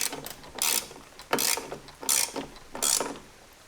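Ratchet wrench tightening the backrest bolt on a 2022 Harley-Davidson Road Glide, heard as five distinct bursts of rapid clicking spaced about every half second to second, close and clear with no talking.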